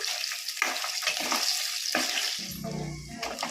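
Paneer frying in oil over low heat gives a steady, soft sizzle with light crackling throughout, and a lower stirring or scraping rumble joins near the end.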